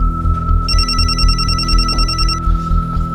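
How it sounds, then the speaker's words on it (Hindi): A telephone rings indoors at home in a steady repeating bell-like tone over a low background hum, one long ring burst before it stops. "राजेश का फोन है।"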